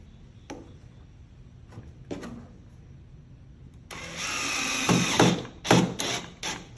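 A drill drives screws through a Kreg pocket-hole jig into clamped wood, giving a sustained whir with rising, pulsing bursts in the last few seconds. Several short clicks and knocks from the tool come before it.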